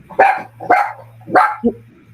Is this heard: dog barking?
yes